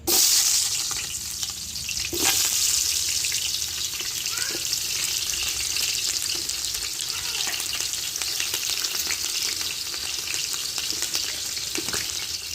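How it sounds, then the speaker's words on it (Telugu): Onion and green chilli frying in hot oil with pulao whole spices, a loud continuous sizzle with scraping stir strokes and a few sharp clinks, close and steady, no talking. "పులావ్ దినుసులు బాగా వేడింది కదా, ఉల్లిపాయ, పచ్చిమిర్చి వేసుకుందాం"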